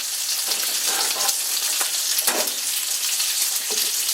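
Steak sizzling and frying in a pan while cooking over an open fire outdoors, a steady broadband hiss with occasional louder crackles and pops, close and continuous with no talking.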